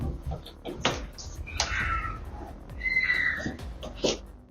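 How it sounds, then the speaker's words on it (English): A burglar knocks at a front door and then pries at it with a pry bar, giving scattered knocks, clunks and scraping metallic creaks at close range over a noisy background. "Then he pulls out a pry bar and starts trying to force the door open"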